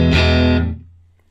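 An electric guitar through an Elk Echo Custom Amp 60 rings out a single loud, distorted chord that sustains richly for about half a second and then fades away, heard alone.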